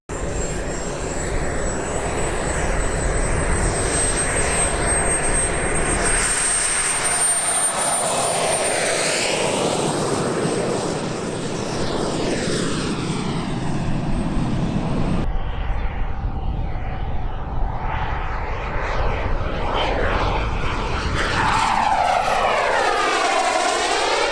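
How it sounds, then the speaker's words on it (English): Steady high-pitched turbine whine with a loud roaring wash, pitch sweeping and shifting as it moves nearby, continuous throughout. "It makes the kind of whining sound that a jet engine makes."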